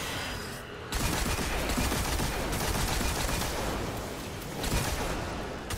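Heavy weapon fire in Destiny 2 during a solo Nightfall strike: a loud, dense, continuous barrage of rapid shots and blasts runs almost the whole time after a short lead-in, with only brief dips.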